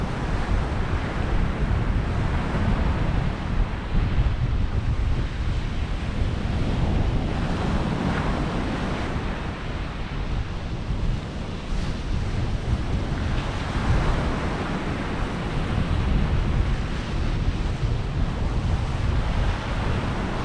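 Strong onshore wind on the Lincolnshire coast at Six Marshes, roaring continuously into the microphone with surf washing underneath, loud and unbroken throughout.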